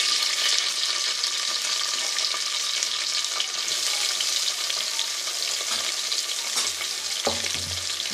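Onions hitting hot oil already crackling with cinnamon and cloves, a steady dense sizzle and spatter throughout, with a few soft clinks and a stirring scrape near the end.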